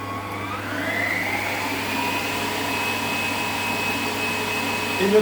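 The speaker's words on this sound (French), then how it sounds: "Hop, on va repasser un petit coup de batteur." Electric hand mixer beating chocolate spread mousse, a continuous steady whirring motor hum held at one even level for several seconds, close by.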